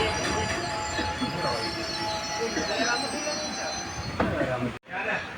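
An Ernakulam–Guruvayoor express pulls out of Kalamassery station, a steady rolling rumble of carriages with metallic wheel squeal and rattling, then a sudden brief drop near the end. Someone talks over it.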